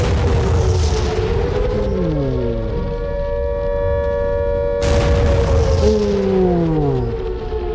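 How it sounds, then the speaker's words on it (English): A ballistic missile strike in the military strategy game Regiments: a deep booming explosion with a rumbling tail, with sweeping, falling tonal tones and a second heavy blast partway through, loud and close. "Ballistic missile."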